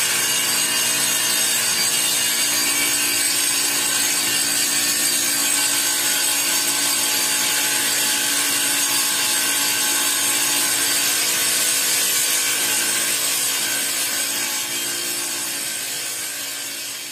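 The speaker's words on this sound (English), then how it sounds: "miter cut the front bullnose of each to 45" Wet saw mitering the front bullnose edge of a stone or ceramic tile to 45 degrees, a steady loud grinding whine holding without a break for the whole stretch and easing off slightly at the end, with no talk.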